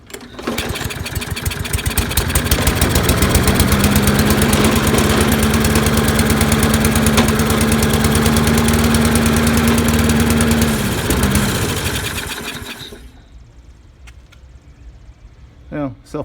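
A Kohler engine on a self-propelled Toro lawn mower runs loud and close, a steady throbbing drone with a rough knocking edge that holds for about eleven seconds, then cuts off and winds down into near silence.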